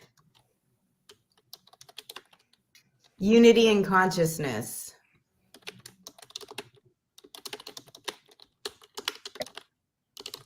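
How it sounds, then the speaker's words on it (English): Rapid typing on a computer keyboard is picked up through an open microphone during an online conference, with bursts of quick clicking before and after a short spoken phrase. "Who's typing so fast?"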